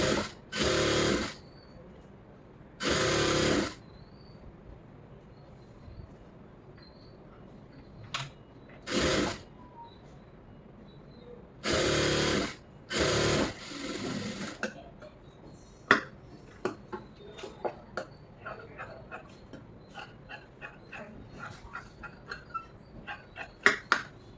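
Sewing machine stitching a lining blouse in several short bursts of a second or so, with separate clicks, taps and handling noises in between and a quiet room background.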